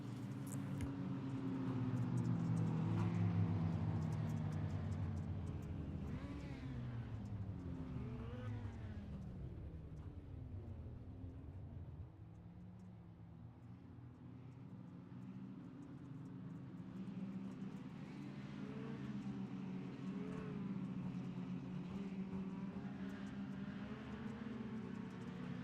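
Stock cars in a heat race of an outlaw stock tour round, engines droning loudly and continuously with rising and falling pitch as cars pass, a steady dense roar throughout with no talk.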